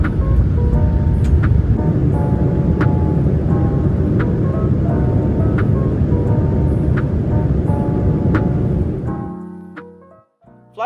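Cabin roar aboard an Ethiopian Airlines airliner climbing after takeoff from Incheon toward Tokyo Narita, a loud steady engine and air rush with faint periodic ticks, fading away near the end.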